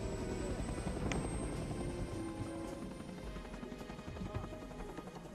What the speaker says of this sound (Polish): Wyskakujesz ze śmigłowca i padasz na ziemię. Czekasz, aż odleci. Hałas milknie